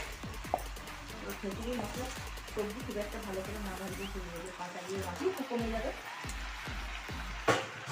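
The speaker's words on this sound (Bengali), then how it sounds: "এখন আমি এবারে এখন ভেজে নিচ্ছি সবজিগুলো" Cabbage and other vegetables fry in a pan for village-style khichuri with little oil, a busy crackling sizzle with scattered clicks and stirring taps, while a voice talks over it.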